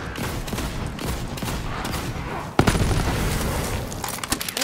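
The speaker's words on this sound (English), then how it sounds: "Oh, he exploded." A sudden loud blast in the video game Borderlands 3 as an enemy explodes, cutting through a dense, continuous barrage of gunfire that keeps rattling afterward.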